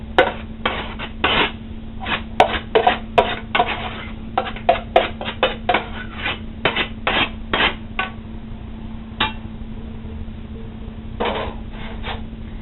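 Cooked tricolored quinoa scraped into a big mixing bowl, a run of close, sharp clinks and taps of a utensil on the bowl in an irregular rhythm, with a steady low hum beneath and quiet gaps between.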